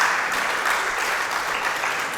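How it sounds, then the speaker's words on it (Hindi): Audience applause fills a hall during a family discourse in Bhilai's Nehru Nagar, a dense, continuous clapping that stays loud and even throughout, with no talking over it. "आप लोगों की बात नहीं कर रहा हूं, आप अलग लोग हो, आप तो ताली बजाइए"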